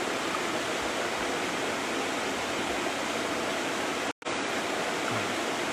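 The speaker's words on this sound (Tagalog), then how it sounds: "Nandito po sa Ilog." River water rushes in a steady, dense hiss, loud and continuous with one brief dropout, and no voices over it.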